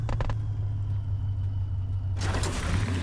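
The Avenger car in Cyberpunk 2077 gives a loud, steady low engine rumble, with a burst of broadband roar near the end.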